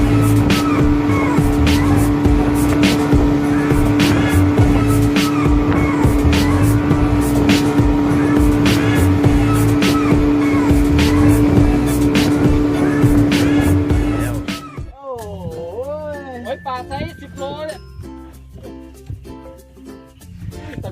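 A Daikyo engine on a fishing boat off Bang Saphan drones loudly and steadily with a strong hum for about fifteen seconds, then cuts out, leaving voices talking over quieter background.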